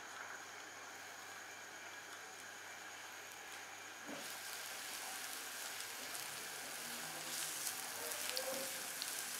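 Medium-chopped onion dropped into two tablespoons of hot oil in a kadhai over a lit flame, giving a steady hissing sizzle that swells louder partway through and carries on evenly without speech.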